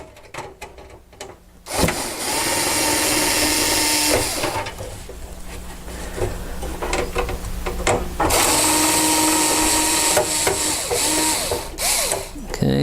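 Screws being backed out of a rear circuit board, with ratcheting, clicking mechanical bursts in two long stretches separated by a brief pause, close and fairly loud.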